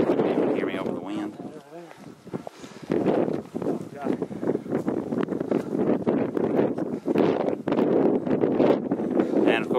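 Strong wind buffets the microphone on the open, grassy summit of Max Patch along the Appalachian Trail, a loud rumbling gust layered under someone talking throughout.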